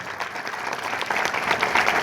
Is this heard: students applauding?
yes